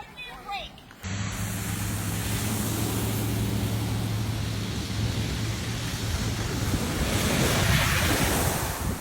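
Floodwater surges along a flooded Chicago street during a violent storm, a loud continuous rushing roar mixed with wind that begins abruptly after a brief moment of voices.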